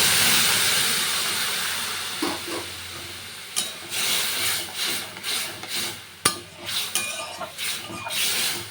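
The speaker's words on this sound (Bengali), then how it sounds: "এবারে এর মধ্যে দিয়ে দেব জল" Water is poured into a hot pan of fried egg and vegetables while making Zuluk-style noodles in East Sikkim, giving a rough steamy hiss and sputter with several bursts and crackles that swell and fade.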